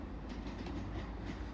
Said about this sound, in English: we got a Great Western Railway service coming in, going to Gloucester from Weymouth